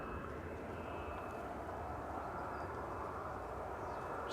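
An airliner taxies at Manchester Airport, its jet engines giving a steady, distant broadband roar with a faint whine, heard alone without talk.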